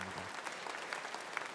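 Scattered, fairly distant applause from a large conference audience, a steady patter of clapping hands at low volume.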